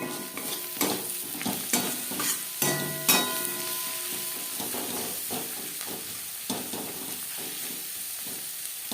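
Onions browned in a pan with turmeric powder sizzle steadily while a spatula stirs and scrapes in repeated strokes, close and fairly quiet, with no talking.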